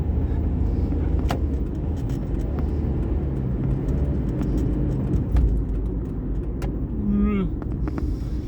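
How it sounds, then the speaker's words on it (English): Steady road noise from inside a moving car in heavy traffic near roadworks: a constant low rumble with passing vehicles and a faint rising whine near the end. "there's a lot going on with traffic right now"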